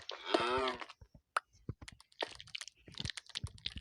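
A Minecraft cow gives a long, drawn-out moo at the start, followed by quiet keyboard clicking and mouse taps during underground gameplay.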